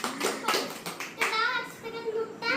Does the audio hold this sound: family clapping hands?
yes